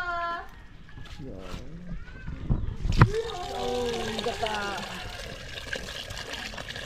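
Water poured into a cooking pot, splashing and trickling up close, while people talk over it.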